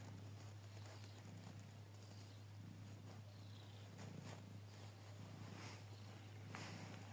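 A low, steady purr rumbles continuously from a cat held close, soft and even, with faint rustling and light tapping sounds over it.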